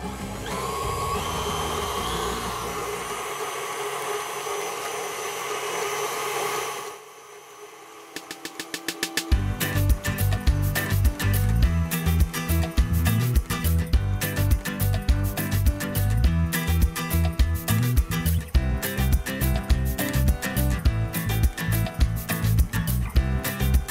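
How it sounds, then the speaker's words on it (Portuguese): Electric stand mixer beating a cold macaron buttercream while butter cubes are added, a steady motor whir at first, a brief drop, then a loud rhythmic churning with rapid repeated knocks as the beaters work. "eu vou começar a adicionar os cubinhos de manteiga, mas com a batedeira ligada."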